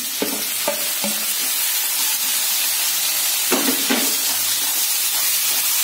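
Chopped tomatoes hit hot oil with ginger and garlic for egg masala, giving a steady bright sizzle throughout, with a few louder stirring scrapes and clatters near the pan.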